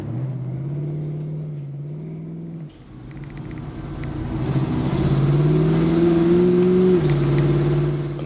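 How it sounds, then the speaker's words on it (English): A 1951 Chrysler New Yorker rally car engine idles with a steady rumble, briefly dips, then revs up into a louder, rising drone that holds before easing back, close by and alone. "this is a '51 Chrysler New Yorker rally car"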